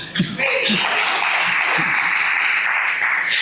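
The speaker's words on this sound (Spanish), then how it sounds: "Ustedes no saben aplaudir al Señor." A church congregation applauds during a sermon, a loud, continuous roar of many hands clapping that fills the sanctuary for several seconds after a brief rustle at the start.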